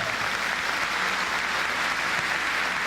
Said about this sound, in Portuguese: Se você quiser dar uma salva de palmas para ele, você pode, igreja.